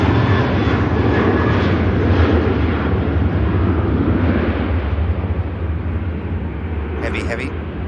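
Boeing 737 NG jet departing Manchester Airport, a loud, sustained engine roar that slowly eases, with a voice briefly audible near the end.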